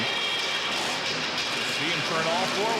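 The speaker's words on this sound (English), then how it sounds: "Here the engine's revving up." A monster truck engine revs at a Monster Jam race in a Minneapolis arena, a continuous loud roar under an announcer's excited commentary.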